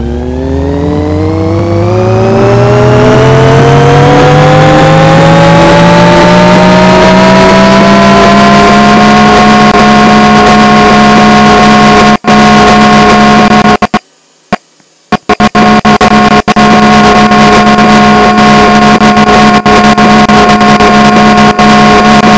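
A wobbly ceiling fan in the Roblox video game gives a loud, droning motor-like whir that climbs in pitch as it spins up, then holds steady, broken briefly by a short dropout.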